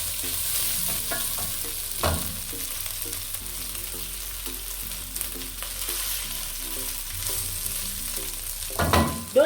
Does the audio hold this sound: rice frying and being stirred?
yes